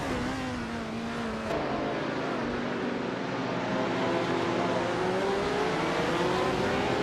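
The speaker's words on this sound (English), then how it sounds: "Dave Factor is driving the 1976 Brabham BT45" A 1976 Brabham BT45 racing car engine in a racing video game, a loud, steady high-pitched whine that climbs gradually in pitch as the car accelerates, with other cars droning close behind.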